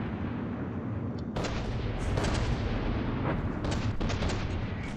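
Heavy naval turret guns firing in a warship battle game, a continuous rumbling barrage with repeated sharp booming blasts layered over it, loud and close.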